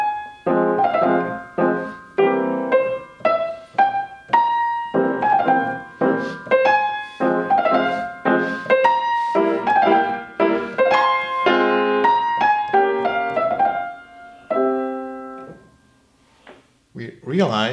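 Piano plays a Beethoven passage taken at a slowed, double-beat reading of the metronome marking: a steady stream of close, clear notes and chords in even pulses with a short pause near the end, and no talking.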